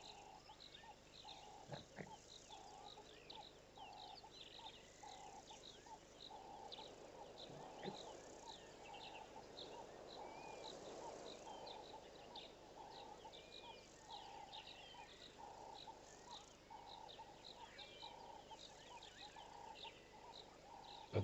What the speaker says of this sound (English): The bush is alive with the sound of frog calls at the moment.